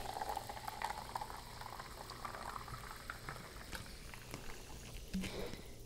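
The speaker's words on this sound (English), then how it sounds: "Hear it sizzling." Freshly poured homemade carbonated water fizzes and crackles steadily in a glass, a soft close continuous hiss of popping bubbles with no talking.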